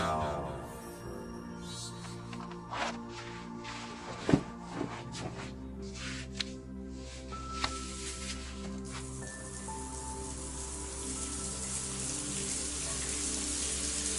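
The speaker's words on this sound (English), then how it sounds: "Shower first." Water from a running shower splashes and drips steadily, a continuous wet hiss with scattered sharper drops and knocks over a low background drone.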